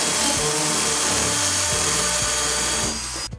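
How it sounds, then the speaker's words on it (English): A power drill whines steadily at high speed and grinds into a wall, close and loud, then winds down and stops near the end. "we're safe to go all the way into this wall to the required depth for drilling."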